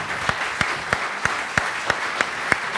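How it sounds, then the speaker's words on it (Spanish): Audience applause at an academic lecture event on science and culture, heard as a steady wash of clapping with regular louder sharp claps punctuating it throughout, moderately loud and with no talking. "pido un fuerte aplauso para nuestro invitado"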